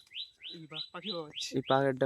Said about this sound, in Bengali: পাখির ডাকটা শোনো শুধু